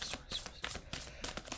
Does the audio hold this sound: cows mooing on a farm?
no